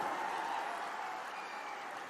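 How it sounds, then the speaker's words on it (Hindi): Large crowd at an election rally in Nizamabad with Amit Shah clapping to welcome a member of parliament, a broad even roar of applause heard from some distance and slowly easing off. "जोर से एक बार ताली बजाकर स्वागत करिए हमारे सांसद का।"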